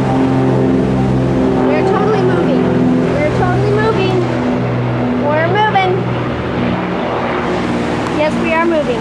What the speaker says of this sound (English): They're firing up the engines.